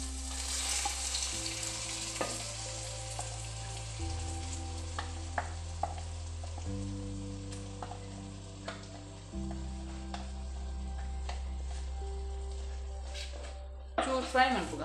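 Tomatoes fry in a pan, and a steady sizzle runs underneath while a spoon scrapes and stirs now and then. Background music carries through with a few sharp clinks and a louder burst near the end.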